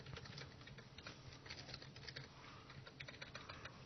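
Fingers typing on a computer keyboard during C++ game development, a steady soft patter of keystrokes, faint and continuous with no talk over it.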